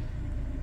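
Peugeot 207 SE 1.4 five-door hatchback from 2006, engine freshly started and idling with a steady low rumble, close and constant with no voices.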